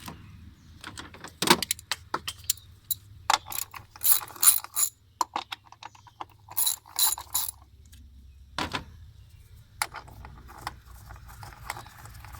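A hand ratchet works on a cover under the hood of a 2004 Honda Civic Si, giving bursts of rapid clicking pawl sounds, close up, with pauses and small clunks in between.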